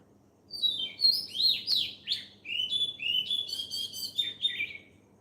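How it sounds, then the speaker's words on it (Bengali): A single bird chirping at dawn, close and clear, a run of bright twittering phrases and rising whistles over quiet, faint background noise. "অথচ এই পাখিটি আমরা যখন গভীর ঘুমে আচ্ছন্ন ছিলাম তখন আমাদের ঘুমে ডিস্টার্ব করেনি"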